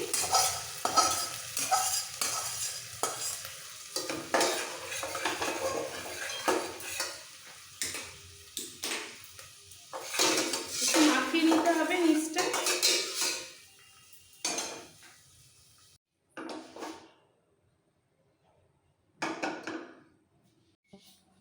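Hilsa gravy for ilish biryani being moved into a heavy cooker, with stirring, scraping and clattering of pots and utensils in repeated bursts, a brief sizzle, then quieter gaps near the end; no talking.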